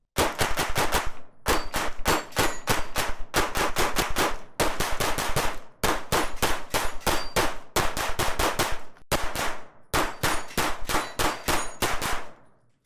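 Kimber 2K11 Comp Series pistol firing rapid strings of shots at a steel plate rack, each volley of sharp, loud reports and ringing metallic hits separated by brief pauses.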